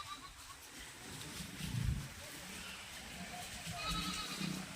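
Goats bleat faintly at a distance, a couple of low calls rising over quiet outdoor background noise.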